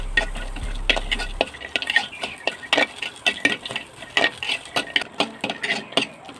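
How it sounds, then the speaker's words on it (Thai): Shallots and garlic stir-fried in oil in a pan for a northern Thai dish, with rhythmic scraping strokes of a utensil against the pan over a soft sizzle, close and steady. "หอมแดงมาใส่แล้วครับ สำแดง กระเทียม เอามาคั่วให้มันหอมนะครับ"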